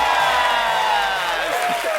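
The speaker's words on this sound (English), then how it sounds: "A big round of applause." A studio audience cheers and whoops loudly for a runway walk on a television talk show, a dense steady roar of crowd noise with voices rising through it over about two seconds.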